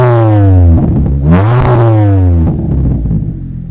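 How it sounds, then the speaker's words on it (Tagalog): An MG ZS fitted with a matte black free-flow muffler revs hard, its exhaust note climbing steeply to a peak and then dropping back to a steady rumble, loud and close. "And lastly, matte black free flow muffler."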